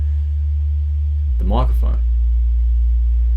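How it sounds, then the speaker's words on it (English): Big, deep sine-wave sub bass holds a steady, loud low drone through a pop music chorus, with a short burst of a person talking over it midway. "Big sine wave sub bass."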